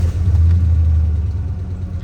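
An old, high-mileage truck engine runs with a deep, low exhaust rumble, loud and close, holding a steady idle throb with a slight swell early on.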